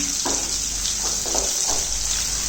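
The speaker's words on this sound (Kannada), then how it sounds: "ಈರುಳ್ಳಿನ ಹಾಕಿ ಸರಿಯಾಗಿ ಒಂದು ಒಗ್ಗರಣೆ ಮಾಡ್ಕೋಬೇಕು." Sliced medium onion and curry leaves sizzle steadily in hot tempering oil for a South Indian beans stir-fry, with a few soft stirring scrapes over the constant hiss.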